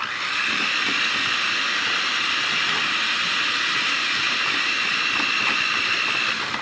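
Electric mixer whirring steadily through thick cookie dough of sugar and vanilla, a continuous close, even motor hiss with no talking.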